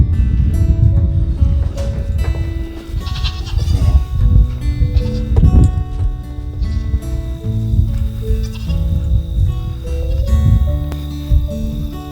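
Goats on a small multi-species homestead farm, bleating at close range over a loud, continuous wash of low rumbling and layered tonal calls that carries across the whole stretch with no speech.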